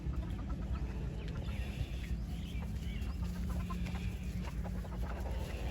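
Three roosters on a rural farm, with chickens clucking intermittently at a moderate distance over a constant low rumble of background noise, and no talking.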